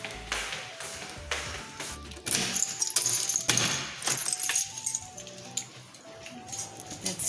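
A bunch of keys jangles and taps close by as it is picked up indoors before fetching a child's scooter. Small metallic clinks and rattles come in short bursts, with occasional light taps and no speech.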